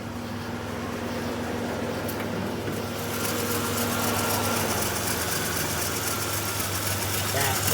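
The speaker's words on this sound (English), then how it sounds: "idle noise" A 1995 Dodge Caravan minivan with a freshly replaced front valve cover idles steadily, a constant low engine hum with a faint hiss that grows slightly louder partway through, heard up close.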